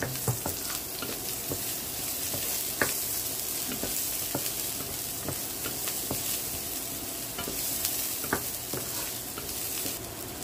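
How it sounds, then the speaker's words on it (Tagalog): Onion and garlic sautéing in a pan for pata tim, a dense continuous sizzle throughout with occasional light clicks of a stirring utensil, close and steady, no voices. "gigisa natin yung sibuyas at bawang"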